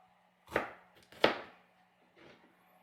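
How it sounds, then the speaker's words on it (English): A knife cutting cleaned bell peppers into thin slices on a board, three separate quiet chopping strokes, the first two crisp and closer, the last softer, with no voices. "Now we're just going to cut them into thin slices."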